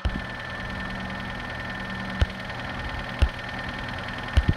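A car engine idles steadily after being jump-started with booster cables, a low even hum nearby with a few brief knocks or clunks breaking through.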